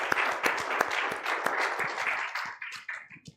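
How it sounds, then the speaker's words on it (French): A congregation applauds during a French-language church service, with a dense burst of clapping that thins into scattered individual claps toward the end. "Nous acclamons Jésus"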